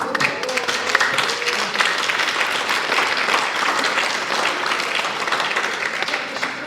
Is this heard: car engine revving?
no